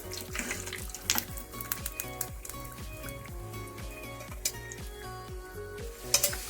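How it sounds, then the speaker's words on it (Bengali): Lentil vadas for dahi vada frying in hot oil, a steady close sizzle with clinks of a spoon or utensil stirring and turning them, no talking. "এইভাবে উল্টো দিকটাও আমি ভেজে নেব।"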